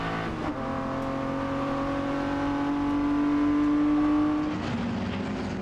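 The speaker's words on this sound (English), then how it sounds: "Listen to that 6-cylinder motor howling." A six-cylinder race car engine howls at a high, steady pitch at Silverstone, holding a sustained whine that climbs slightly before easing off, loud and close with no talking.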